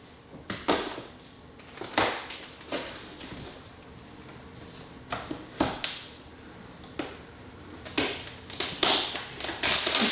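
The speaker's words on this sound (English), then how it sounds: "cut into the box." A cardboard shipping box is cut open close by, with repeated sharp slicing rasps and tearing bursts separated by short pauses and light handling taps.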